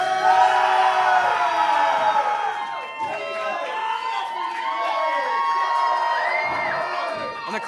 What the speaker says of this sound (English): And the Campbell chants run wild.